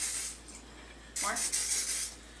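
A spray bottle mists water over bread dough in a home kitchen, giving a short close hiss of about a second after a quieter stretch.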